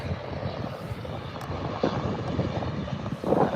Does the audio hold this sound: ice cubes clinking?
no